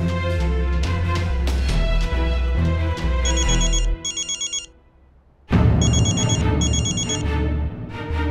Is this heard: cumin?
no